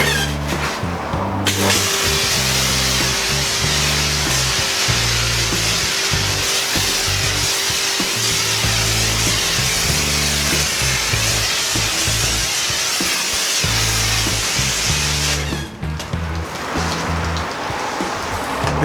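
A Stihl RE 120 pressure washer sprays foam through a foam nozzle: a loud, steady hiss and spatter under a pump's rhythmic motor thrum, running continuously before cutting off near the end.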